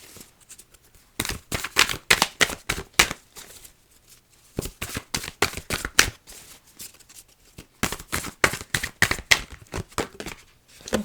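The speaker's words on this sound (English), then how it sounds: "I'm just going to finish this shuffle and just see if anything else pops." Tarot cards shuffled by hand in three bursts of quick, crisp riffling flutters separated by short pauses, close and clear with no talking.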